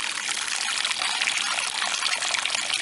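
A steady stream of water mixed with fish fertilizer trickles and splashes into the soil well around a freshly planted tomato in hard, raw ground, close and continuous with no pauses.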